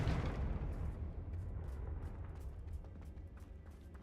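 A Confringo fire spell blasts in Hogwarts Legacy, a loud booming burst at the start followed by a broad rumbling roar that slowly fades across the few seconds.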